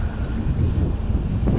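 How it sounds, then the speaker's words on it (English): Steady wind rushing over the microphone aboard a sailboat under jib alone, around 12 knots, with water washing against the hull and a constant low roar throughout, no voices. "Winds are picking up now, 12 knots or so true."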